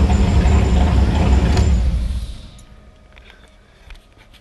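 A car engine revving briefly and then dropping back toward idle after a crossed oxygen-sensor wiring fault was corrected; the loud rev falls away about halfway through, leaving a quieter idle with no talking.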